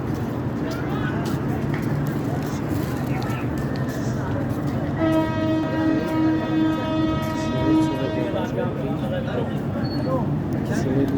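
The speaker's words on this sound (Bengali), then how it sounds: "এখন এই ট্রেনটি সিলেটের উদ্দেশ্যে ছেড়ে দেওয়া হচ্ছে।" The Paharika Express pulling out from a Bangladeshi station toward Sylhet sounds a long, steady horn over constant rumbling and a busy platform, with people talking throughout.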